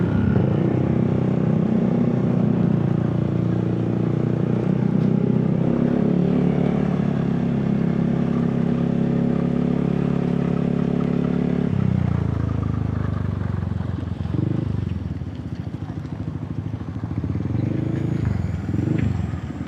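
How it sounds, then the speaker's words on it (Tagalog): A motorcycle engine runs steadily nearby during a ride in the Philippines, a loud continuous rumble that drops and softens partway through, with faint voices around it. "May motor."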